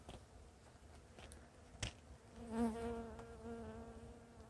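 Honeybee swarm buzzing around a flowerpot, a steady droning hum that swells and grows louder partway through, with a sharp tap near the middle.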